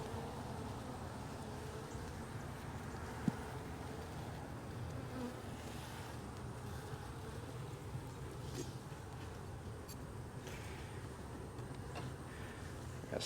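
Honeybees buzz steadily around an opened hive during a brood frame inspection in Jacksonville, Florida, a dense continuous drone of many insects close by with faint handling clicks and no talk.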